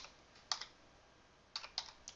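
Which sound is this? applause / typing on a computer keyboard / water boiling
typing on a computer keyboard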